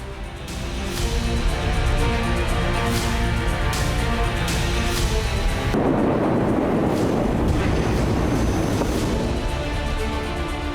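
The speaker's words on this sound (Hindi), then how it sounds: "बम गिरा और जोरदार धमाका हुआ" A loud, sustained rumbling roar of an Israeli airstrike bomb explosion with crackling debris, filling the whole clip without voices.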